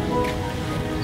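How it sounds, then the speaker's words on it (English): Rain falling steadily on a city skate spot with stairs and rails, Praça Roosevelt in Brazil, a continuous close hiss filling the short stretch with no voices. "It's raining."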